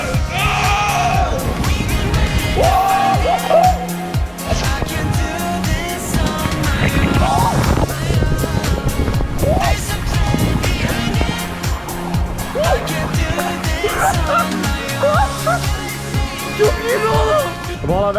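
Ride down a water slide at a huge aquapark, a dense continuous roar of rushing water and splashing, loud and close throughout, with shouting voices mixed in.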